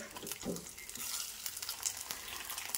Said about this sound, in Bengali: নাস্তাটা এক পাশ 2 মিনিট করে ভেজে নিতে হবে।